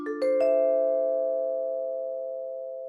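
A steady sustained note from a Space Age Vibraphone virtual instrument played without vibrato, with a soft mallet attack and a few quick onsets at the start, then a smooth, even tone slowly fading, heard alone.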